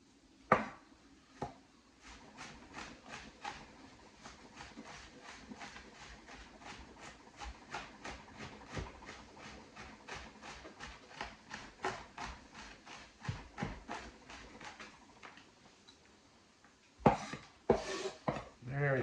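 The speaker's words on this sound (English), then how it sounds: "Hold a knife like this with the knuckle. Keep the fingers tucked in" A knife chops food on a board in a fast, regular run of crisp knocks that continues for many seconds, close and moderately loud, with a few heavier clattering hits near the end.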